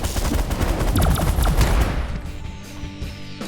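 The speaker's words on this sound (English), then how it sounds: "I can probably switch to miniguns" Rapid minigun fire in the space strategy game The Last Federation, a dense loud stream of shots for about two seconds that then thins out and fades into quieter ambient tones.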